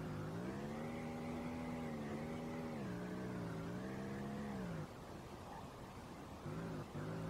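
Racing-game car engine in Street Legal Racing Redline, loud and continuous, revving up and down through gear changes for about five seconds before dropping to a rougher, lower idle with brief blips near the end.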